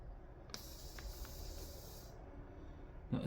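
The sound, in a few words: air escaping from piping bag of chocolate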